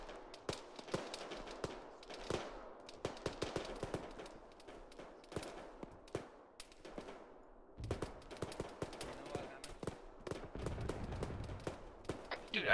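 A teammate's gunfire in the military shooter ARMA 3, set in Afghanistan: rapid bursts of automatic rifle shots, sharp and close, coming in repeated volleys with short pauses and a heavier sustained burst near the end.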